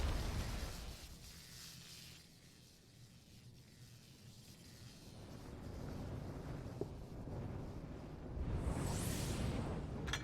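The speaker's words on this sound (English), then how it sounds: "Cool guys don't look at explosions." Explosions in the video game Final Fantasy XIV: Shadowbringers, heard as a sustained, rumbling blast of noise that dips in the middle and swells again toward the end, with no voices.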